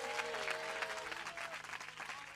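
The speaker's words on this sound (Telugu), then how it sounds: "ఓసారి చప్పట్లు కొట్టి స్తోత్రం చెప్తారండి." A church congregation claps together in a dense, continuous patter of hands, steady and fairly distant, with a faint tonal voice or instrument running underneath.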